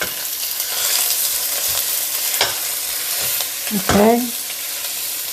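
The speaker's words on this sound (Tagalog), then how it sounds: "we are going to put the minced meat. This is beef, 500 grams. And then mix it well." Five hundred grams of minced beef sizzles steadily in a hot pan with onion and garlic while being stirred, a loud continuous frying hiss with scraping movements and a brief spoken word.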